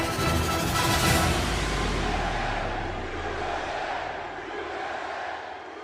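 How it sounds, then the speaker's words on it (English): A large crowd at a White House event chanting and cheering, a loud roaring swell early that slowly fades into a more distant, sustained crowd noise. "you can hear the crowd chanting USA in the background"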